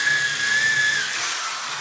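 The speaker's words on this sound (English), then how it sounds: "I'm using the electric because this is hard wood to drill." Electric drill pre-drilling into salvaged hardwood flooring in a basement, a close, steady high whine that slightly drops and softens near the end, heard alone without talk.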